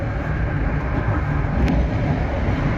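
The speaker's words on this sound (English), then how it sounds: "New Haven train stops here." A New Haven Line commuter train at Fordham station gives a loud, continuous rumble and roar, heard from up close with no pauses and no talking.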